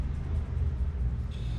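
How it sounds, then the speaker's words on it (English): A car passes outside with a low, rumbling engine, heard steadily through a wall at moderate distance for a brief moment. "you got a crazy car outside"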